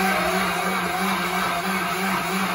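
A Gertech GT-006 nut milk maker runs its cleaning cycle with a quiet, steady hum and faint whir, continuous and even throughout, with no talk over it.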